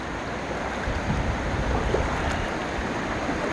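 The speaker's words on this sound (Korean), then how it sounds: "사방에 사방에 물소리만 들리네요" Steady broadband rush of a flowing stream, continuous and fairly close, with a faint breezy hiss and no voices.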